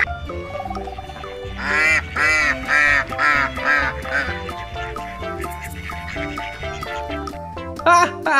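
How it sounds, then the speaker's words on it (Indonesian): A duck quacks in a playful, toy-like voice over a bright musical backing. The calls come in a lively run of repeated bursts at moderate loudness. "Wow, ini bebek."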